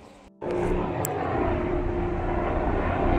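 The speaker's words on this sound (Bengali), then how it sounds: "হেলিকপ্টার যাচ্ছে।" An aircraft engine drones steadily overhead, starting abruptly and then holding a loud, continuous rumble with a faint tonal hum throughout, heard outdoors.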